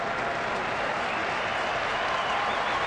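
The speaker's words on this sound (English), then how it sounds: "Crowd trying to encourage Duensing here in the 5th." A baseball stadium crowd at a Chicago White Sox at Minnesota Twins game in 2009 cheers and claps to urge on the pitcher, a dense, steady roar of applause filling the whole moment.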